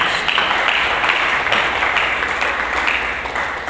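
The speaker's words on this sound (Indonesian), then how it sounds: "Berikan tepuk tangan dulu" A church congregation applauding at a Sunday sermon, with steady, loud, dense clapping that carries on throughout and fades slightly toward the end.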